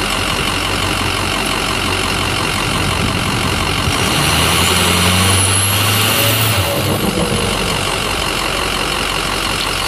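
A Ford Super Duty truck with a 5R110W transmission runs in gear during a stall speed test. Its engine roars loudly and steadily, rising in a strained surge midway before settling back, with no talking.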